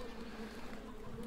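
Bees buzzing at a royal apiary in the castle-building game Stronghold 2, a faint, steady droning hum with a low tonal buzz that holds evenly throughout.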